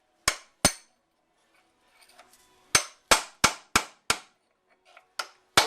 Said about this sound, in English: Try to get it out with this drift.